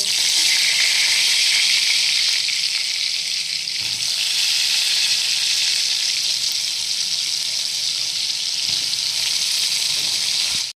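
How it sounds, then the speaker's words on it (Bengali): Soaked soybean chunks, squeezed of water, fry in hot oil with a loud, steady, hissing sizzle that runs unbroken and close throughout. "এবার ভালো করে জল টিপে নিয়ে সয়াবিনগুলোকে ভেজে নেব"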